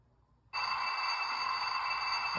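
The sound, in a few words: MTH model train engine starting up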